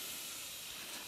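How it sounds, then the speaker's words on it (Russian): Chopped onions fry in a pan set over a Swedish candle log fire outdoors, giving a steady, soft hiss with no break and no voices. "Ставим и начинаем жарить лук."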